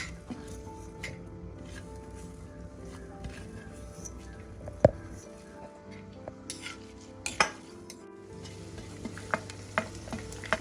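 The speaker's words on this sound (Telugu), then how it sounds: "ఆవాలు, జీలకర్ర, కొంచెం వేగాక వెల్లుల్లిపాయలు వేద్దాం." Mustard seeds, cumin and garlic frying in a pan for an Andhra-style chikkudukaya fry, a soft sizzle with sharp clinks and scrapes of a spoon against the metal pan.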